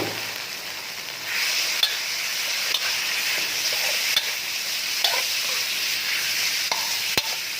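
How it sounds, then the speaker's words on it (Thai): Pork being stir-fried in a pan, a continuous bright sizzle with the occasional scrape and clink of a spatula stirring through the meat. "ผัดเข้ากันเลยฮะตอนนี้รวนหมูไปประมาณนี้"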